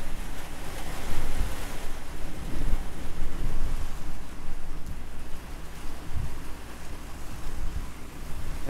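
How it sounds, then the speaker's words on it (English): Strong wind gusts blowing outdoors on a residential dead-end street, a loud continuous broadband roar with surging rushes and low buffeting rumbles on the microphone, no talking. "It is so windy today"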